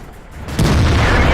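A tank cannon fires in the World of Tanks video game: one heavy, close boom that bursts in after a low rumble and rolls on, loud and full.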